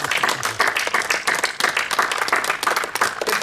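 A seminar audience breaks into sustained applause, many hands clapping densely and steadily at close range for the whole stretch, with no clear talk over it.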